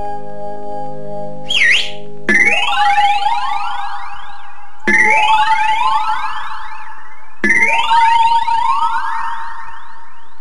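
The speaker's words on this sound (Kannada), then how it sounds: "ನಿಮ್ ಫ್ಯಾಕ್ಟ್ರಿ ಸೈರನ್ ಅದು" A factory siren wails three times in a row, each blast rising steeply in pitch and then holding a steady high tone, loud and close with no talk.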